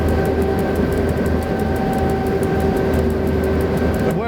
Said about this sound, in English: That must be an AI train.